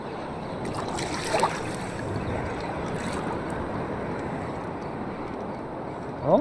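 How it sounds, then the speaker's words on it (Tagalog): Large sea waves wash and slap around a small fishing boat on open water. The rushing surge is steady and moderately close, with a couple of brief sharp chirps. "Oh, lalaki ng alon, no?"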